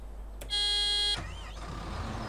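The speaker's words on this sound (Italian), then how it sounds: "c'ho pure il clacson quando parte" A single bright electronic horn from a combine harvester in Farming Simulator 17 blares for about half a second, steady and buzzy, then cuts off, leaving a low engine hum and faint background tones.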